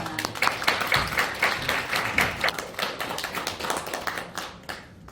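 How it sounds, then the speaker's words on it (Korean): A crowd claps steadily throughout at a foundation's inaugural seminar in Korea, a dense, sustained round of applause with no voices over it. "큰 박수를 부탁드립니다."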